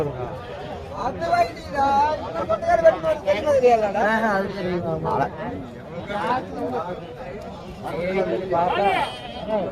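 Goats and lambs bleat repeatedly at a busy weekly goat market in Kunnathur, close and loud, mixed with steady crowd chatter and people talking throughout.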